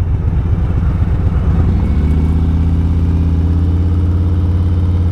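Harley-Davidson Street Bob 114 motorcycle engine on a ride along a country road, a steady loud low rumble that shifts to a smoother droning hum partway through, continuous and close with no talk.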